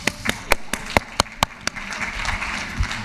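Sparse handclaps from a small audience at a Python regex performance talk, about eight sharp, separate claps in quick succession, then a soft scattered patter fading out.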